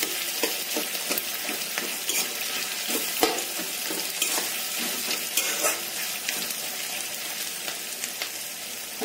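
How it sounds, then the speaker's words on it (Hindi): Onions lightly frying in a pan for shahi paneer, a dense ongoing sizzle broken by frequent spatula scrapes and stirring knocks close at hand. "अब मैं प्याज को हल्के सा फ्राई कर लूंगी।"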